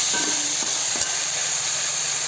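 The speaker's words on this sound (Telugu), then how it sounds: "కొద్దిగా దీంట్లో ఉప్పు వేసి బాగా కలపాలి." Salt being stirred into a pan of goat head curry, a steady sizzling hiss under soft scraping strokes of the spoon, close and continuous with no talking.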